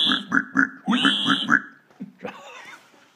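A person imitates a pig, giving a quick run of nasal oinks and grunts in a rhythmic series, followed by a few breathy snorts, close and fairly loud.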